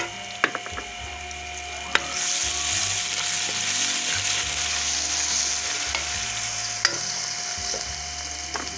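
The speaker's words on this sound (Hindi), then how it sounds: "अब मैं लहसुन अदरक पेस्ट डाल रही हूँ।" Garlic ginger paste sizzles and fries in a pan over already-fried onions with a steady hiss, punctuated by occasional scraping clicks of a spoon stirring against the metal.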